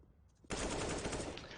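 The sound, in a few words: gunfire in a Counter-Strike style video game match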